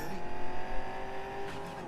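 A car driving in Cyberpunk 2077 pulls a handbrake turn, its engine droning at steady high revs and shifting pitch, with a brief tire squeal near the end.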